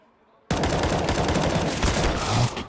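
Rifle gunfire in Counter-Strike at a professional esports match on the Nuke map bursts in abruptly after a quiet moment: rapid, loud automatic shots in a sustained string lasting a couple of seconds.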